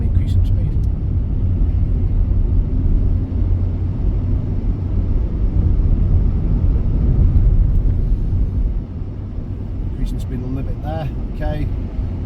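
A car accelerates along a Hull driving test route, its steady low engine and road rumble filling the cabin throughout, easing slightly near the end.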